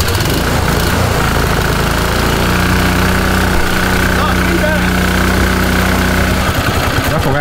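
A small engine idles steadily and loud close by, a continuous low chugging hum with no talking over it.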